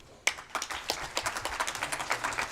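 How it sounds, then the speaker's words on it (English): Audience applauding at a civil society conference valedictory event, a burst of clapping that starts abruptly and continues as a steady, moderately sized round of claps. "A big round of applause, ladies and gentlemen."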